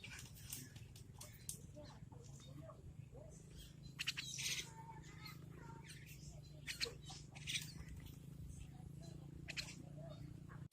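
A white-breasted waterhen chick being hand-reared gives faint, short chirping calls in scattered bursts over a low steady hum, with occasional soft voices nearby.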